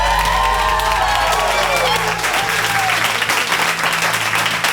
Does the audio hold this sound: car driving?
no